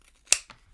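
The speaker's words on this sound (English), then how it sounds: "I'm just going to take my pinking shears around the curves and narrow this down a little bit." Dull pinking shears trimming fabric around curves, giving a single crisp close snip followed by a fainter second cut.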